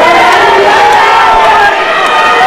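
A wrestling crowd at a Canadian title match roars and cheers continuously, a loud dense wall of voices with scattered shouts, steady throughout.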